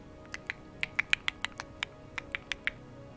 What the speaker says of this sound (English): you would hear a bunch of clicking sounds from all directions